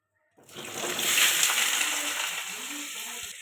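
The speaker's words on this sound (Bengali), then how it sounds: "এঁচড়টা ভেজে নেবো এবারে" Boiled young jackfruit pieces seasoned with salt and turmeric drop into hot oil, and the sizzle bursts in after a moment of silence, swells loudly and then settles into a steady close frying hiss with faint stirring.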